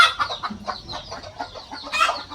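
Free-range country chickens on a poultry farm kept alongside cattle cluck and squawk in short repeated bursts, close by, with a louder rising call near the end.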